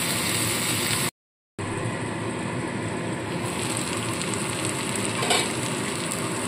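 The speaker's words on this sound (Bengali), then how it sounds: "এবার একদম আঁচ কমিয়ে আমি ঢাকা চাপা দিয়ে রান্নাটা হতে দেব।" A pot of pumpkin with hilsa fish head cooks covered over low heat, giving a steady soft sizzle and bubbling hiss close by. The sound drops out for a moment, then carries on without voices.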